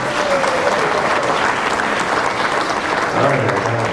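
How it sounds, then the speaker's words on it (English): Audience applause on a comedy talk show, steady dense clapping throughout, with a few faint voices and whoops mixed in. "Give me a round of applause if you want to hear it."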